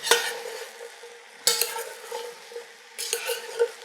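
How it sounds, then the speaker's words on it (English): Garlic in oil and butter sizzles softly in a pan on a medium-high flame while a utensil stirs it, with three distinct scraping strokes over the steady crackle, close up and without talk. "give it a little stir, help everything get coated in that oil and butter"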